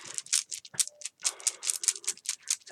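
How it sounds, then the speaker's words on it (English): Runes being shuffled by hand for a psychic reading, a quick series of close clattering rattles and clicks in irregular bursts with short pauses, no voices. "just going to shuffle the runes"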